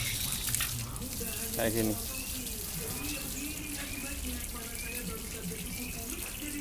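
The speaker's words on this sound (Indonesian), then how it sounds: "Ini kita kuras semuanya airnya, kita ganti dengan air obat ya." Water gushes steadily as it drains out of a livestock farm tank through a flushing system, a constant rushing flow with a person talking over it.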